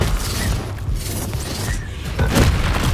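A Bombarda blasting spell explodes in Hogwarts Legacy, a loud booming burst with rumbling crash and debris, followed by a second heavy blast near the end.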